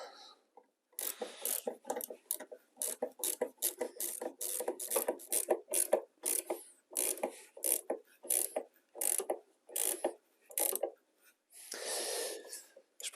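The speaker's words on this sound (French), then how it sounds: "Je finis de visser les autres." A ratchet clicks in quick uneven bursts while tightening engine mount bolts on a Saab 9-3 NG with the B207E engine, close and dry, pausing briefly between strokes, with a short breathy gap near the end.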